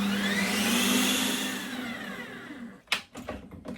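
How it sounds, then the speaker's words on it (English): A Ninja Creami machine spinning sorbet on its milkshake setting gives off a loud, steady whirring drone that winds down and stops, followed by a few sharp clicks and clunks of the machine. "we'll put it back into the machine and we'll spin it on the milkshake setting"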